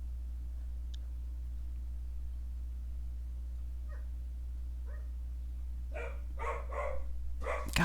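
A few faint yelps give way to a quick burst of sharp barks near the end over a steady low background hum.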